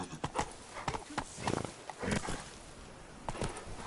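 Roach the horse gallops in a video game, its hooves clip-clopping in quick, uneven beats close by. The footfalls continue through the whole stretch, with no speech over them.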